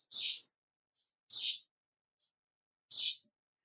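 Early-morning birds outside a window give three brief, bright chirps spaced about a second and a half apart, faint and distant against near silence.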